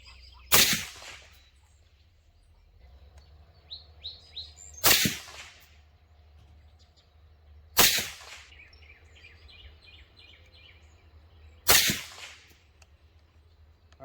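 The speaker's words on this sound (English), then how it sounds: "here's 4 supersonic rounds first, and I'll go into the dirt" Four supersonic rounds fired from a rifle through a suppressed .30 caliber can into dirt: four loud, sharp cracks spaced a few seconds apart, with birds chirping faintly outdoors between shots.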